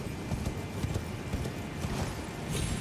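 Horse hooves from the Elden Ring video game, a fast, steady clip-clop of galloping under a loud, dense game soundscape.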